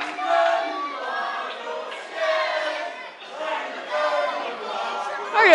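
Wrestling crowd at an independent show chanting and shouting in rhythmic waves, loud and echoing through the hall, with no commentary over it.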